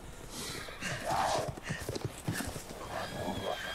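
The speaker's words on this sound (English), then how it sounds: "They're riding horses" Horses gallop in a Resident Evil Village game scene, uneven hoofbeats thudding close by amid a whinny and rustling effects, with a faint voice underneath.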